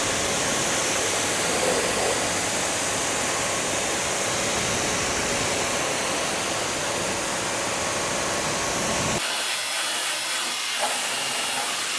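Pressurized water rinses a Porsche Macan during a detailing wash, a loud, continuous broadband hiss and spray that holds steady for about nine seconds, then cuts to quieter dripping and room sound.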